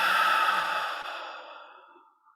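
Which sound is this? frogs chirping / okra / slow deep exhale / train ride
slow deep exhale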